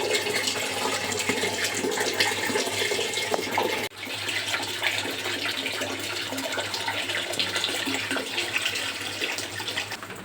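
Tap water runs hard and steadily into a basin, a loud continuous splashing rush that stays even from start to end with one brief dip partway through.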